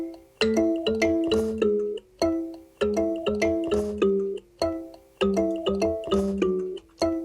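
A real kalimba and a fake kalimba play together, with layered plucked tine notes in a repeating melodic pattern, close and fairly loud, each note ringing and decaying before the next phrase.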